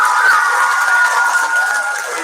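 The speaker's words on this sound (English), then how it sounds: "So give them a round of applause." A school-wide morning assembly crowd applauds the basketball team, a steady wash of clapping and some cheering that fills the room loudly for the full stretch.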